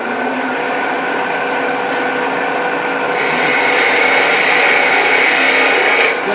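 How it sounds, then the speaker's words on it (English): A wood lathe spins a mushroom bird house blank while a detail gouge cuts, giving a steady whirring, scraping hiss that grows louder and brighter partway through as the speed rises. "I'm going to grab a detail gouge and go at it. So I'm going to up my speed a little bit."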